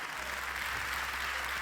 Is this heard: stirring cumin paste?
no